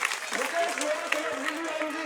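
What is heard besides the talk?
crowd applauding a political candidate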